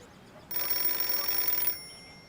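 Telephone ringing in a steady bright trill for about a second, fairly close and loud, with no talk over it.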